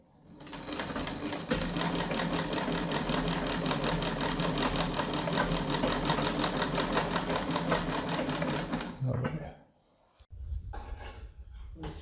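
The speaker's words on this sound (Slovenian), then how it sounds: "Zdaj pa pripravljam zašivati." A Singer sewing machine over 150 years old runs in a steady, loud mechanical stitching rhythm for about nine seconds, then stops abruptly, leaving a quieter low rumble.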